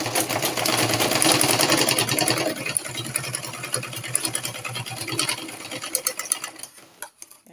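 A sewing machine runs steadily while stitching a corset seam on an off-shoulder corset, loud and close at first, then easing to a quieter continuous whir with a few short bursts near the end.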